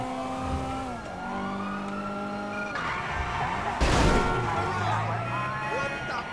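A hatchback car in Grand Theft Auto revs hard and skids, loud engine whine rising and falling with tire squeals and a crash burst midway, while someone talks over it.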